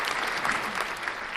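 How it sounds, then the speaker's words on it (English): Canned applause effect played on a live stream, a dense, continuous patter of crowd clapping, fairly soft and even from start to finish with no talking. "Round of applause."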